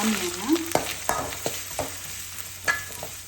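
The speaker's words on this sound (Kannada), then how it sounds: "ಎಣ್ಣೆ ಬಿಸಿ ಆಯಿತು. ಇವಾಗ ಇದಕ್ಕೆ ಗಾರ್ಲಿಕ್ ಹಾಕೋಣ." Garlic dropped into hot oil for gobi manchurian, sizzling steadily while a spatula scrapes and knocks against the pan in a loose rhythm of several strokes, close and fairly loud.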